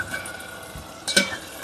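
Fried coconut tempering poured into Perumal kanji porridge, with a close hiss and crackle, then a sharp sizzling burst and clink as the hot mix hits the porridge.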